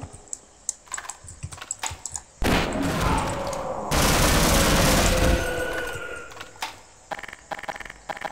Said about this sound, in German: der Idiot schießt gerade